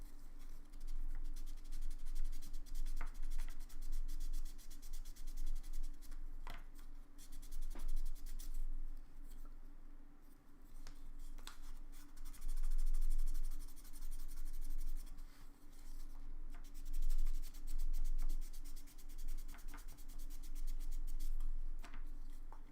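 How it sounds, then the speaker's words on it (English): 3D printed sanding blocks rasp across a surface in repeated scratchy strokes with brief pauses, close and fairly steady, over a constant low electrical hum. "these are the sanding blocks that I was 3D printing."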